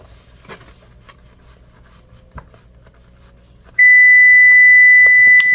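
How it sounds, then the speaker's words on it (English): A kitchen timer goes off while bread is rising. A loud, steady electronic beep suddenly cuts in near the end, after quiet kitchen rustling and a soft knock. "There's my timer."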